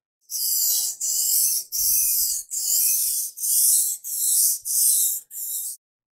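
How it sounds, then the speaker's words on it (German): A kitchen knife is drawn across a whetstone in eight long, even, raspy strokes, close and loud, each separated by a short pause, with no other sound around them. "einmal von dieser Seite wieder das Ganze schleifen und dann einmal von der anderen Seite noch"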